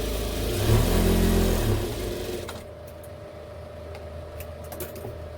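An electric sewing machine stitches a ready-made blouse, with a loud, revving whir for the first two seconds that slows and fades, leaving quiet room tone broken by soft clicks.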